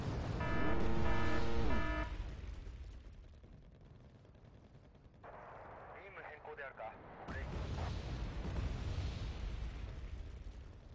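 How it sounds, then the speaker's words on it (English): Artillery fire in the real-time strategy video game Wargame Red Dragon, with booming explosions and rumbling impacts, a tonal interface sound at the start and a brief quieter mechanical stretch in the middle. "Just with the artillery, they are killing my heavy tank there."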